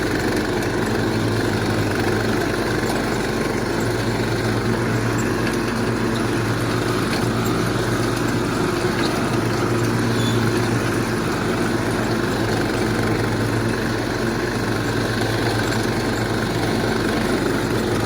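A lawn mower mowing grass gives a continuous engine drone at constant loudness, steady and unbroken throughout with no voices.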